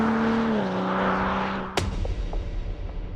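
A BMW M240i coupe is driven fast, its engine holding a steady strained drone before a sharp shift or bump and a lower rumbling run-on, with no talk.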